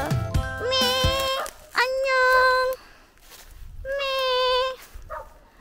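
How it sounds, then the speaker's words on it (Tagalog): A pet goat bleats loudly and close by in a series of three long, wavering calls, with brief scuffling and a voice nearby. "Ayan, alaga po namin kambing."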